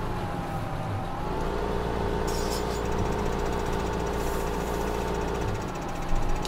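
Tractor engine idling in Farming Simulator 2015, a steady low mechanical hum with a constant drone that holds evenly throughout, with no voices over it.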